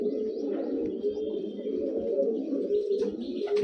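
Kalduma high-flying pigeons in a loft coo steadily and close by, a continuous layered murmur of cooing with occasional soft chirps, no talk.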